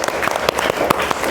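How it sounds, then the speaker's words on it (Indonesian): Short burst of classroom applause, a group of schoolchildren clapping together close by for just over a second, with a few louder individual claps standing out. "Beri tepuk tangan untuk kita semua dulu."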